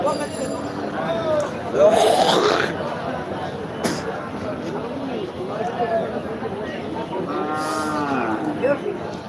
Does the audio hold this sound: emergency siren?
no